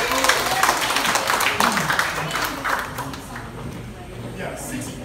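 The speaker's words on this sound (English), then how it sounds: "Please clap for the round of applause." Conference audience applause, a loose crowd of scattered claps fading gradually over several seconds while voices talk over it.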